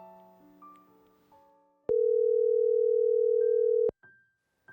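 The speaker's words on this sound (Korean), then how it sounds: "먼저 전화를 연결해 보겠습니다." A telephone call being connected during a Korean church counseling broadcast: a few shifting tones, then a loud, steady tone lasting about two seconds, followed by a brief higher beep, with no talk.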